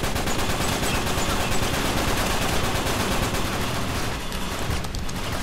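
Sustained automatic gunfire in the multiplayer video game Uncharted 3, loud and dense with rapid repeated shots through the whole stretch, easing slightly near the end.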